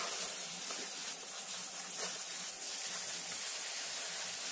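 Bean sprouts rinsed under running tap water give a steady, moderately soft hiss and splash that carries on evenly with no voices.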